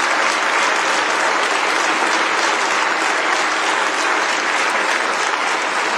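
Loud, sustained applause from roughly thirty people in a hall fills the whole stretch, a thick unbroken patter of many hands clapping at once, with no talking.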